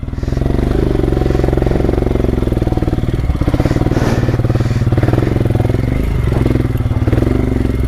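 An enduro motorcycle on an off-road trail, its engine droning loud and close with a rapid pulsing beat, rising and falling with throttle amid clattering and scraping, with no talk over it.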